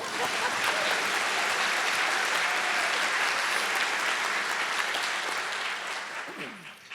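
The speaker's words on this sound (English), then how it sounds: "We should clap for her also." Sustained clapping from a symposium audience, a full, even roar of many hands that holds steady before thinning and tapering off near the end.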